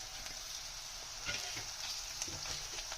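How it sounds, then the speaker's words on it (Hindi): Green garlic sizzling with half-fried onion in a pan over a low flame, a steady, close hiss and crackle with small bursts of spattering, and no voices. "हम हल्का सा फ्राई करेंगे"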